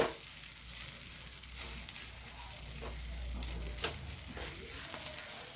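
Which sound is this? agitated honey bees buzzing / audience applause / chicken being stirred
chicken being stirred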